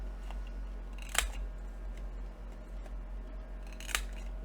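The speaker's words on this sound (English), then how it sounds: "if you want to round corners, now would be a good time" Scissors snipping paper to round the corners of a pocket card, two crisp separate cuts a few seconds apart over quiet room hum.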